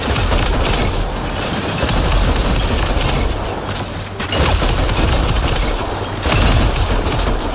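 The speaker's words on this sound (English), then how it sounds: "Keep shooting that!" Sustained rapid gunfire from a sci-fi video game battle, dense and loud throughout, with brief dips around four and six seconds before the shooting resumes at full intensity.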